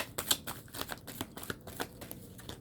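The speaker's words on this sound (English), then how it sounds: "I'm gonna shuffle for your month" Oracle cards being shuffled in a tarot-style reading, giving a rapid run of crisp papery riffles and flutters, close and clear with no talking.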